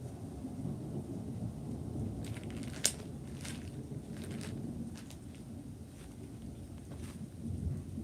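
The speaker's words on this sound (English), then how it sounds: "Is the thunder not awesome? Oh my god, it sounds so cool." Thunderstorm with steady rain and a continuous low rumble of thunder, plus one sharp crack of thunder nearby and scattered faint pattering, heard without voices for several seconds.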